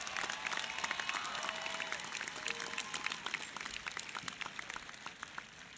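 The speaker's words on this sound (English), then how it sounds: "Please give her a round of applause." Audience clapping at a high school graduation ceremony, dense sustained applause from a crowd, moderately distant and gradually thinning toward the end.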